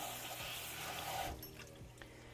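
Steady running water from a kitchen sink tap as mushrooms get washed, a faint continuous splash with a few soft knocks partway through, quiet and with no talking.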